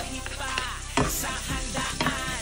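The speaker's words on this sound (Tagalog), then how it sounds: "Magigisa muna ako ng bawang at saka luya" Garlic and ginger sauté in a hot pan, sizzling loudly with a few sharp stirring scrapes of a utensil, close up and without talk.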